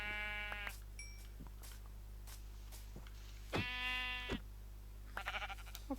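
Several sheep in Minecraft bleat in short, wavering calls, a couple louder and closer, over a steady electronic hum with small clicks and blips in between.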